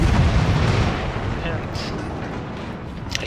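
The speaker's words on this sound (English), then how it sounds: "so I opened fire on her" Warship main guns firing in the naval combat game World of Warships, a dense roaring boom at the start that rolls off into a sustained rumbling wash with faint later cracks.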